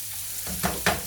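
Bread frying in a hot pan while a second pan of meat cooks alongside, for yiros; a steady close sizzle swells with two short louder hisses and crackles as the bread hits the oil.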